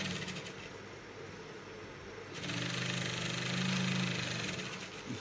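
An electric sewing machine stitching the sleeve of an Ankara top, a steady mechanical whir that starts softer and grows louder and more even midway through, running alone without talk.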